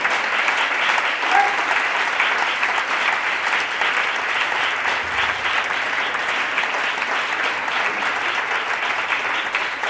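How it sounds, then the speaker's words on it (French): A church congregation applauds and acclaims Jesus Christ, with steady, loud clapping from a large crowd that carries on without a break and faint voices mixed in. "Tu vas encore acclamer fortement le Seigneur Jésus-Christ de Nazareth"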